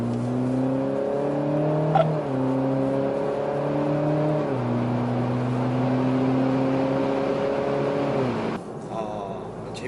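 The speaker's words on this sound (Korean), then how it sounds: "제 뒤에 계신 운전자분은 운전자분만 괜찮으시면 이제 충분히 가속 끝까지 하셔도 좋습니다" A BMW Z4 sDrive20i accelerates hard around a driving-centre circuit, its engine note climbing steadily through gear changes in a loud, sustained drone, with a brief drop near the end.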